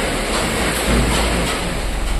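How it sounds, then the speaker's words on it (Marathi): Heavy rain falls steadily outside, a dense broadband hiss with a low rumble that holds through the whole stretch at a fairly loud, even level, with no voices. "पाऊस भरपूर पडतोय बाहेर"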